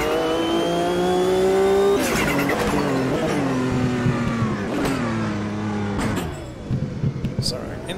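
Race car in the Automobilista 2 sim racing game, its engine droning loud and near, then dropping through gear shifts and decelerating as it slows into the pit lane, with a voice talking over it.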